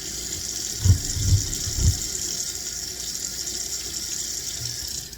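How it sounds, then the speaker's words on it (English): Tap water runs steadily into a kitchen sink while dishes are pre-rinsed, a constant hissing stream with a few soft low knocks of dishes near the start. "I'm going to pre-rinse all of these dishes."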